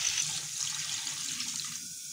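Water pours steadily into a cooking pot as chicken yakhni stock is added to pulao, a continuous splashing hiss that fills the short stretch without any talk.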